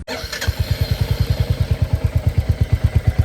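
A Royal Enfield Hunter 350 motorcycle engine starts, then settles into a steady, loud, thumping idle with an even rhythmic beat, close by.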